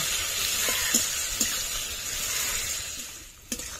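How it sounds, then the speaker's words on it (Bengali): Chopped tomato and onion fry in a pan for a meat ghugni, giving a steady close sizzle with a few light clicks of stirring and no voices. "টমেটো আর পেঁয়াজটা ভালো করে ভেজে নেব"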